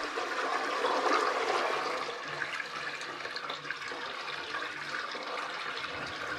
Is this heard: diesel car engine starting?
no